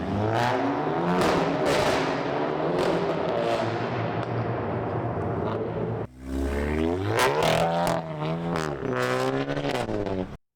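A VW Golf GTI MK8 with a catless CTS Turbo downpipe revs hard and loud up close, its exhaust crackling and popping, with a brief dip mid-way before another burst of revving.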